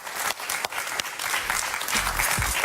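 A studio audience on a Venezuelan political talk show applauds for Pablo Medina: a dense, steady wash of many hands clapping, loud and close, with no talk over it.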